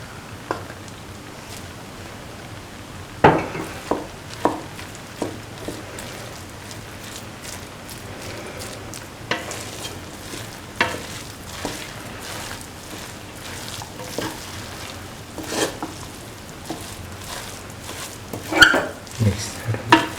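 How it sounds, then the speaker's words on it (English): Rice with mung beans and carrot stirred in a pan: a soft ongoing sizzle with scattered scraping clicks and taps of the spoon, some sharper knocks now and then, fairly quiet throughout. "Thoroughly mix the rice with the mung beans and the other ingredients."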